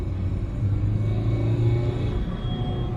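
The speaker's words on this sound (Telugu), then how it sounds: "ఇంజన్ సూపర్ ఓకల్ అవుతుంది" A Ford EcoSport engine revving hard at full throttle in second gear, a close, steady low rumble and drone heard from inside the car, without talk.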